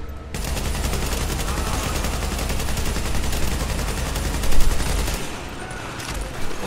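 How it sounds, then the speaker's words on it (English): Sustained automatic fire from a light machine gun in The Division, a dense rattling burst that runs continuously for several seconds, loud and close, before thinning out near the end. "Get down! It's an LMG dude!"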